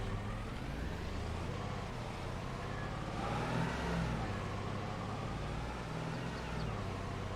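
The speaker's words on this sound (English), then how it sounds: "Now let's go ahead and hop back in the truck." A pickup truck is driven in Farming Simulator 22 on the Sumidouro Farm map, its steady engine drone revving slightly midway, with no talk over it.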